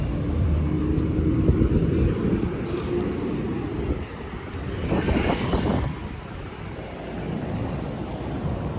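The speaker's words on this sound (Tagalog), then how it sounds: "maraming sasakyan" Busy street traffic with many cars at a crossing near a stoplight in Taiwan, a steady rumbling roar of passing vehicles with a louder vehicle sweeping past midway, heard without talk.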